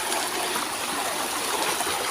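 Water in a stream flows steadily, a continuous rushing and bubbling wash with no pauses and no voices.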